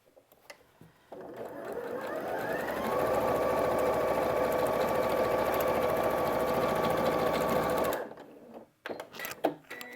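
Sewing machine chain piecing curved quilt blocks runs in one long steady stretch, starting up and ending with a stop, close and alone with no talk.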